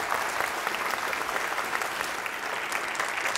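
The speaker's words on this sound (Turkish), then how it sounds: "güçlü bir alkış daha istirham ediyorum sizlerden" An audience at a Quran recitation competition applauds. The clapping is loud, dense and steady and carries on without a break the whole time.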